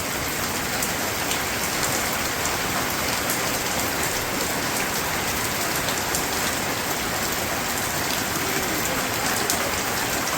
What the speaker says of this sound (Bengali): এদিকে রান্না শেষ করতে করতে আবার বৃষ্টি নেমে গেল।